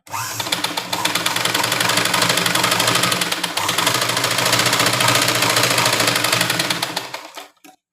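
An electric sewing machine stitching blouse fabric, running loud and fast in a continuous rattling whir for about seven seconds before stopping abruptly.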